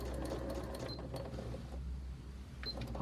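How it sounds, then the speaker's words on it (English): A sewing machine reverse stitches along a zipper bag, making a quiet, steady mechanical whir with small rhythmic clicks over a few seconds. "I'm just going to reverse stitch."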